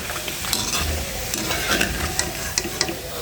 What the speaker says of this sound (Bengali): অল্প অল্প ভেজে এভাবে তুলে নেব দেখো বন্ধুরা আবারও কিছু চিপস দিয়ে দিয়েছি